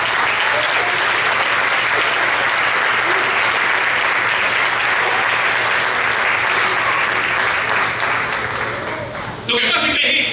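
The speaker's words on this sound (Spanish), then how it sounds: "Denle un aplauso a Jesucristo." Church congregation breaking into loud, sustained applause that holds steady and full, briefly dipping near the end, with voices faintly mixed in.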